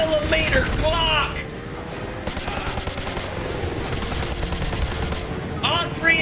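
Fully automatic 9mm Glock fire in Call of Duty: Modern Warfare 2 Remastered, with rapid dense bursts of shots running through most of the stretch beneath a voice, plus other game sounds.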